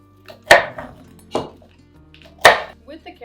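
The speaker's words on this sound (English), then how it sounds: "we're just gonna cut the carrots and put them right in there" A knife chops carrots into big pieces on a board in a homestead kitchen: three sharp, close cuts, each followed by a brief knock, with quiet gaps between them.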